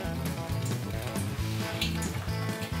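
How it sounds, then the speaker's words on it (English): Chicken strips fry in hot oil with a steady, dense sizzle that stays loud and continuous throughout, with no talking over it. "I'm just going to fry it on one side and gently turn it on the other"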